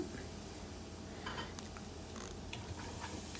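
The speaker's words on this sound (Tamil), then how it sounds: "சின்ன தக்காளி பழத்தை வெட்டி அதையும் சேர்த்தோடு வதக்குங்கோ" Small chopped tomatoes sautéing in a pan for a prawn curry, giving a low steady sizzle with soft stirring scrapes and faint utensil taps throughout, no voices.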